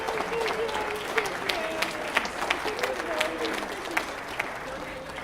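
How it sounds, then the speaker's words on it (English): Steady applause from a school concert audience at a winter band concert for the concert band's solo and ensemble participants, a dense wash of clapping at moderate distance with faint voices mixed in. "How about a round of applause for our concert band,"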